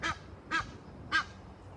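A goose with a leg tangled in fishing line honks three times in an even rhythm, fairly close and clear against quiet outdoor background.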